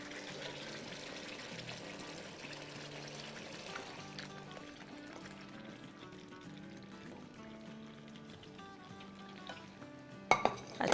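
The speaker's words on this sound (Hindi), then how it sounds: "चलें अब हम अपनी चिकन डाल देंगे।" Raw chicken stirred into hot masala in a pan, giving a quiet, steady sizzle and scraping under background music, with a few sharp clinks near the end.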